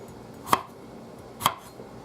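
A knife strikes a cutting board twice, about a second apart, with crisp close chops over quiet room noise.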